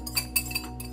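Whisk clinking against a bowl while mixing chocolate chip cookie ingredients, a few quick light metallic taps and scrapes, close and soft with no talking.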